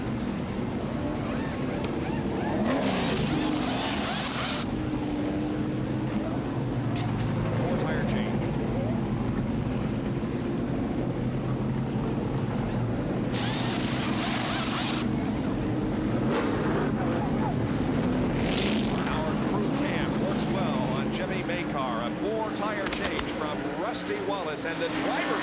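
NASCAR stock cars streaming down pit road at Rockingham during the 1989 Goodwrench 500, a continuous dense engine roar with passing surges, heard under a commentator's voice.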